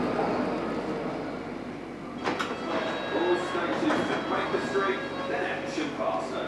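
Riding on board a fast London Underground Metropolitan line train to Amersham, with a steady rumbling carriage drone, rattles and clicks, and a brief metallic squeal partway through.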